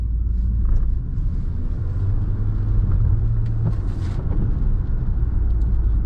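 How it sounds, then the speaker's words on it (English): A 2024 Alfa Romeo Tonale Veloce with a small 1.3 liter four-cylinder engine starts and runs. A deep, steady low rumble holds throughout with a faint mechanical whir above it, close and fairly loud, with no speech. "Hear the engine kick on. And it has an interesting sound."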